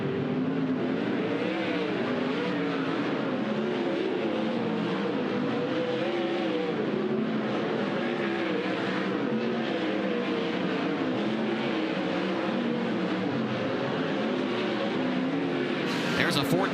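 Sprint race cars from Kubota High Limit Racing circle the dirt track at Douglas County Dirtrack during hot laps, a steady, loud, continuous engine roar with shifting pitch, overlapped by a commentator's voice.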